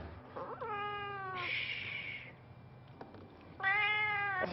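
A cat meows in clear, drawn-out calls: one wavering meow, a brief higher squeal, then another long meow near the end, heard close with some faint background noise between.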